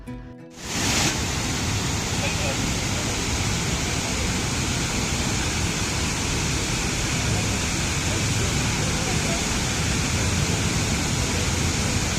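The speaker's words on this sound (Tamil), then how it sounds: "இந்த ஃபால்ஸை பார்க்கறதுக்காக வந்தாச்சு" An artificial waterfall roars in a constant, dense rush of falling water that starts abruptly after a brief muffled moment and stays loud and unbroken.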